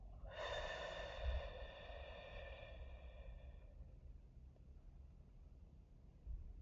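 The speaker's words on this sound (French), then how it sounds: "Troisième fois, j'inspire, je gonfle le ventre. J'expire lentement." A slow, audible exhalation through the nose during a relaxation breathing exercise, a soft breathy rush with a faint whistling tone that fades out over a few seconds, close and quiet.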